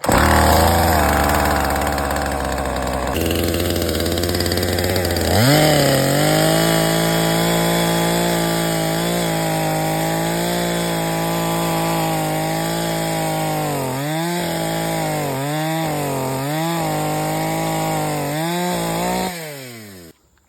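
A Husqvarna 450 Rancher chainsaw runs loud and close for about twenty seconds, idling briefly before revving hard into a cut through a roughly 10-inch solid, freshly felled piece of wood, its pitch dipping repeatedly under load, then cutting off abruptly at the end.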